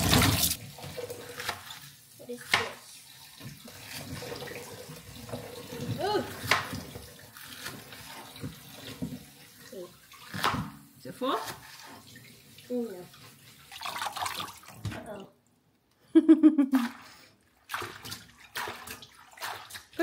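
Tap water runs into a kitchen sink while food is rinsed, a steady splashing rush under family chatter and children's voices. A short gap and a clatter come near the end.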